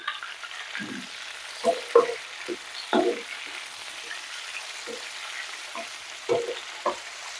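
Tomatoes sauté in a hot pan for a tomato curry, giving a steady close sizzle broken by intermittent scraping stirs of a spoon against the pan.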